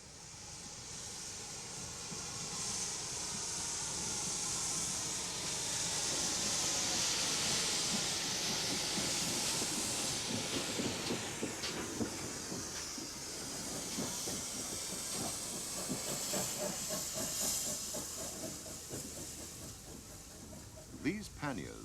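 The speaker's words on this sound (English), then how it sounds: "5700 pannier tank, an example of the most numerous class of Great Western engine." A GWR 5700 class pannier tank steam locomotive gives off a long loud steam hiss that swells and fades, with rhythmic chuffing and rail clatter building underneath, heard from nearby.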